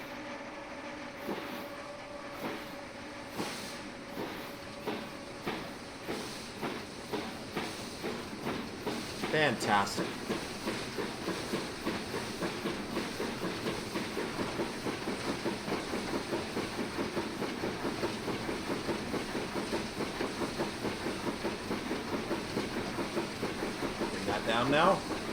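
A 7F steam locomotive in a train simulator game on the Ayr Line in western Scotland rolls over rails with steady rhythmic clickety-clack that quickens and thickens after a brake release, while someone speaks briefly.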